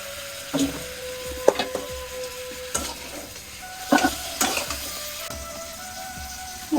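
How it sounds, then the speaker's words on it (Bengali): Meat fries in oil in a home kitchen pan. A steady sizzle runs throughout, and sharp scraping stirs from a utensil come every second or so. "এখন আমি গোস্তটা ভাজতে দিয়ে দেবো।"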